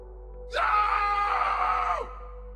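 A man's hoarse scream of pain, performed in a dramatised Japanese horror legend: a single sustained, loud cry of about a second and a half, rising sharply at the start and cutting off abruptly, heard alone.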